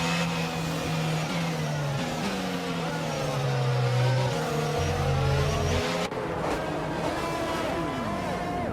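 Race cars reform the grid in F1 22, with a steady engine drone and shifting, whining tones as several cars idle and roll along at low speed. The pitch changes in steps, and there is a brief break near the end.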